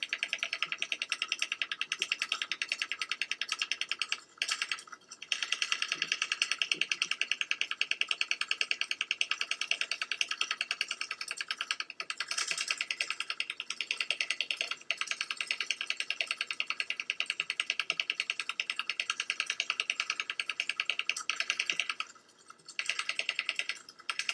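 A Cuttelola electric dotspen dots steadily on paper, a fast continuous buzzy rattle held close and fairly loud, with a few brief pauses as the pen lifts.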